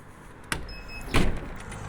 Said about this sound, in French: un tir une fois, et la porte elle est fermée